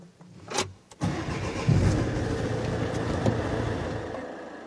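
A late-model keyless car is started after a theft bypass: a couple of clicks, then the starter cranks and the engine catches and settles into a steady close idle, with no talking.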